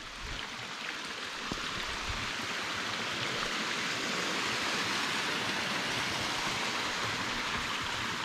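A small waterfall on the Janela do Céu trail in Ibitipoca, with water running between and around rocks and spilling down. It makes a steady, close, full rushing sound that holds unbroken throughout.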